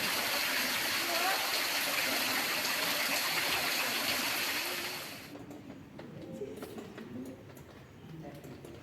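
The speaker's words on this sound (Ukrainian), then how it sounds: "водоспад" Indoor waterfall in a palm house in Gliwice, a steady broadband rush of falling water filling the first five seconds, then dropping away to quieter room ambience with faint distant activity.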